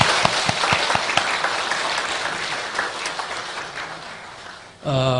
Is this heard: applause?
yes